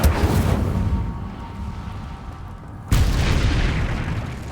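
Incendio fire spell cast in Hogwarts Legacy: a heavy booming burst that decays into a fading rumble, then a second sharp, loud blast strikes near the end, with no talk.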